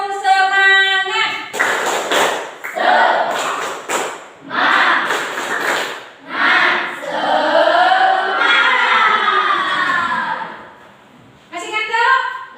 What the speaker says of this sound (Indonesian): ibu kasih tepuk tangan lagi. Tepuk semangat.